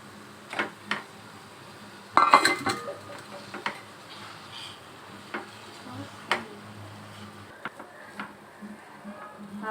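Boiled, peeled potatoes being mashed in a pan for a veg sandwich filling, with soft irregular knocks and scrapes of utensil against metal, clustered strokes around the middle, over a quiet kitchen background.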